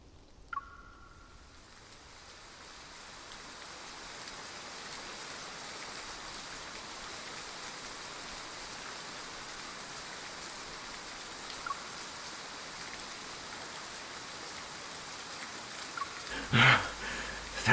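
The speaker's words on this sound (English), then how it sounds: "It's raining?" Steady rainfall in the video game Love and Deepspace, a constant soft hiss of drops on surfaces holding at an even level for the whole stretch, with a few faint clicks and a brief bright tone near the end.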